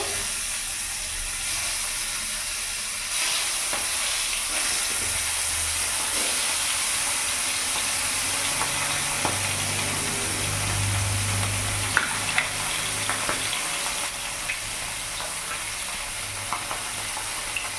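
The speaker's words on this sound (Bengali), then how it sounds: "তেল গরম হয়ে গেছে, এবার আমি বাটা মাছগুলো এক এক করে ছেড়ে দেবো।" Bata fish frying in hot oil, giving a continuous steady hissing sizzle close by, with faint clinks and stirring scrapes over the top.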